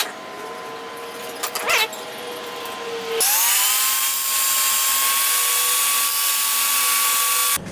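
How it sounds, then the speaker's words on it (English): A power saw cutting 45-degree miters in wood in a workshop: a brief whine and clatter, then the blade spins up into a loud, sustained high-pitched whir that runs steadily for several seconds before cutting off. "now we gotta cut some 45-degree miters."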